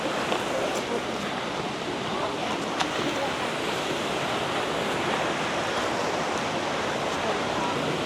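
Rushing river water near the waterfalls of Copalitilla in Huatulco roars in a dense, unbroken wash, loud and steady throughout.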